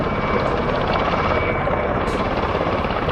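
Dense, steady rotor and engine roar of a V-22 Osprey tiltrotor in Microsoft Flight Simulator 2024, loud and continuous with a constant broadband wash and no talking.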